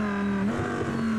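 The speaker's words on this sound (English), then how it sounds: "That's the sound of the Audi down towards the first corner." An Audi race car in a GT racing simulator heading toward the first corner, with a steady, high engine drone and a brief pitch rise as the revs climb, loud and continuous without talking.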